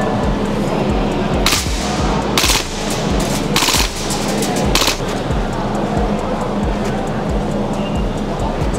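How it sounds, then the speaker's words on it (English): Airsoft gun test fired on full auto at an outdoor airsoft camping fest, giving a steady rapid mechanical chatter through the whole stretch, broken by several sharp louder cracks and bursts. "The guys over here actually allowed us to test fire it."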